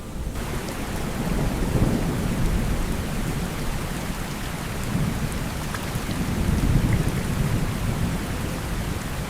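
Steady patter of light rain with low rumbles of thunder swelling and fading in the background; no voices.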